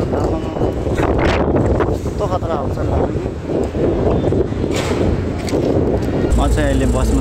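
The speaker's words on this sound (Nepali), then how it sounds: "हावाले उडाउला जस्तो गर्छ, कस्तो खतरा आउँछ।" Strong wind roars across a bus stop during travel from Jaigaon to Hetauda, a loud continuous rushing buffet that stays close and steady, with people talking underneath.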